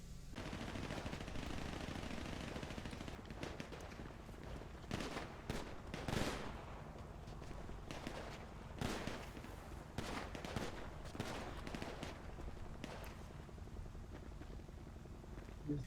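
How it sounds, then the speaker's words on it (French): Rapid video-game gunfire in a hostage standoff at a strip club, bursts of automatic shots crackling at a distance in irregular volleys over a constant background hiss, fairly faint. "Des tirs retentissent alors."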